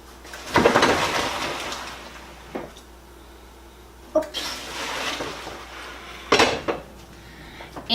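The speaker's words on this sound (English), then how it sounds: "We are gonna get our noodles and our first veggie side off the stove." Metal pots and pans clank on a home stovetop as noodles and a vegetable side come off the heat during weeknight meal prep. Three sharp bursts of clatter are separated by quieter gaps.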